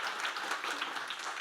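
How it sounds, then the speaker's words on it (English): An audience applauds a panel at a talk on AI and keeping children safe online: a dense, steady wash of many hands clapping together, evenly loud across the whole moment with no voices breaking through. "Just one more little round of applause for them."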